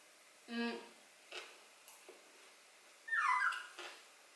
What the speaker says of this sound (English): My dog wants food too.